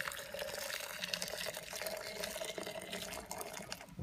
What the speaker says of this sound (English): I'm going to add some boiling water to this